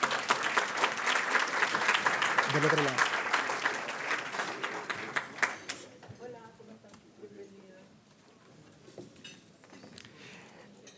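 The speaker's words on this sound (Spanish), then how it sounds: "Un fuerte aplauso." A crowd at a monthly business meeting claps loudly for several seconds, then the applause fades out and a person begins speaking.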